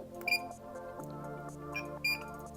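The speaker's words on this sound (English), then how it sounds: "This beep indicates that the code has been deleted." Two short high-pitched electronic beeps from a Matrix 100Pro keypad lock confirming a code deletion, about two seconds apart, clear over a low steady hum.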